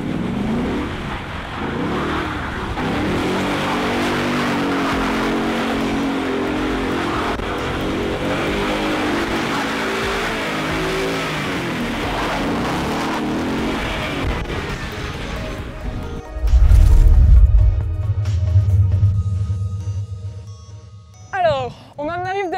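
A car drifts through a full 360-degree spin, its engine roaring loudly and unevenly with revving surges before the noise drops away into quieter rumbling and brief squeals near the end.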